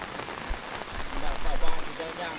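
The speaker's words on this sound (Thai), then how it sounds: "ฝนตก" Steady rain pours down outdoors in a rural Thai village during a heavy storm, a dense, continuous hiss of drops on surfaces. A few heavier patters stand out, and faint voices come through underneath.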